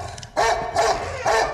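A dog barks loudly and close by, three sharp barks in quick succession after a quiet start, with no speech over them.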